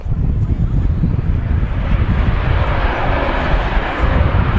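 Virgin Atlantic Airbus A350 airliner at Manchester Airport, a steady loud broadband jet roar with wind buffeting the microphone, continuous and close, with no clear speech.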